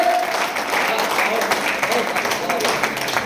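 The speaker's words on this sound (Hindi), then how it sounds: "एक बार जोरदार तालियां।" Loud, sustained applause from the audience at an outdoor-style poetry recital in Haridwar, dense continuous clapping from many hands filling the moment, with a faint voice or tone underneath at the start.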